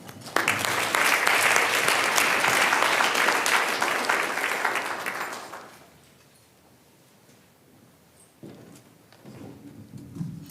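Audience applause greets a keynote speaker at a legal conference, a dense, steady wash of many clapping hands for about five seconds that then fades out, leaving a quiet room with a few soft knocks and rustles.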